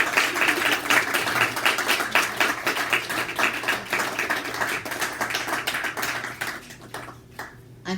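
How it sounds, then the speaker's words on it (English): Concert audience applauding, a dense, steady wash of many hands clapping that carries on for several seconds before thinning out near the end. "You can clap now."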